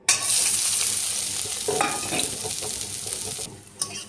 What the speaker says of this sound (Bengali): এখানে আমি 3টা পেঁয়াজ কেটে নিয়েছি, এটা ভেজে নেব।